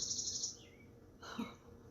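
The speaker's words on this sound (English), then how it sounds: "That bird almost sounds like an alarm." A bird gives a rapid, high-pitched trilling call, followed by a second lower, sliding call, moderately faint outdoors.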